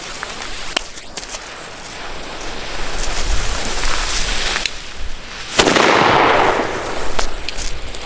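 Super Böller firecrackers set off outdoors in a long tube go off as several sharp, loud bangs spread unevenly over a hissing, crackling background.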